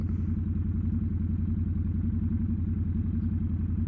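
Motorcycle riding through downtown Fort Wayne, a steady, loud engine drone with a fast pulsing throb and constant rumble, close and unbroken.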